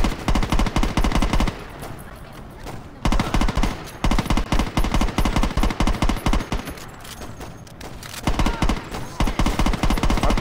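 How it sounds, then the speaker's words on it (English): Bursts of automatic gunfire from the Saints Row 2 video game, rapid sustained volleys broken by short pauses, loud and close with no talking. "I'm just shooting everybody at this point."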